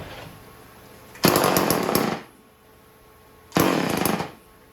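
A vintage Homelite 150 automatic chainsaw is started after choking, and it roars in two loud bursts of about a second each with a quieter gap between them.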